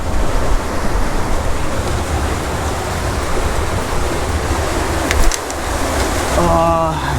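A canyon creek rushes steadily in a broad, even wash of flowing water, close and loud, with a faint brief clatter near the end and no talking.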